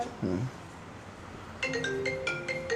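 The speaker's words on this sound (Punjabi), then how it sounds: "ਉਹਦਾ ਫੋਨ ਆ ਗਿਆ ਹੁਣ ਸ਼ਦੈਨ ਦਾ ਫੜੇ ਬਹੁਤ ਫੋਨ" A mobile phone ringtone for an incoming call begins partway through, a bright repeating melodic tone of several short notes, preceded by a brief voice and quiet room tone.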